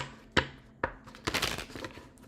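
Tarot cards being shuffled by hand, several quick riffling bursts with short gaps between them, close and fairly quiet.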